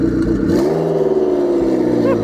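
Supercar turbos spool down with a smooth falling whoosh and a steady engine hum, heard close and fairly loud.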